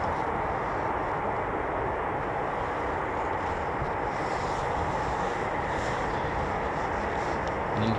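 Eurofighter Typhoon jet engines run just after start-up at RAF Coningsby, heard as a steady, unbroken, distant roar with no pauses.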